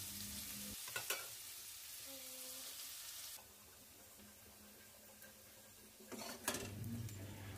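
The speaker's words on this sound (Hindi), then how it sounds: "अब मैं इसमें छोटे कटे हुए प्याज डालूंगी यहाँ मैंने दो मीडियम साइज़ के प्याज लिए हैं इसे भी हम ब्राउन कर लेते हैं" Two medium onions, finely chopped, frying in a pan for sarson ka saag, a soft steady sizzle with spatula scrapes and stirring clatter near the start and end, faint and unaccompanied by talk.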